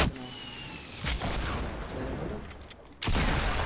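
Gunfire from a Fortnite Battle Royale match at Tilted Towers, bursts of shots scattered across the clip with a sharp loud blast near the end, set against game noise.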